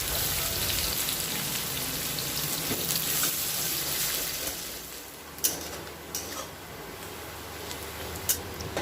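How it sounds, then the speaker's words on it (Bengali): Onions fry in hot oil left from frying potatoes for chicken biryani, a dense steady sizzle that eases midway, with a few sharp clinks of a utensil near the end. "এবার আলু ভাজার তেলেই পেঁয়াজটা আমি ভেজে নেব লাল করে।"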